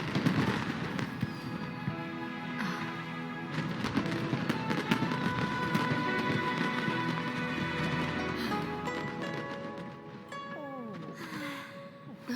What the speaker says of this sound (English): Way over there, a firework that looks just like a pig!